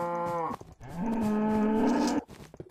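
Cows moo in a Minecraft-style video game, one drawn-out bellowing low before a longer, louder sustained moo that cuts off, heard close and clear with no talk.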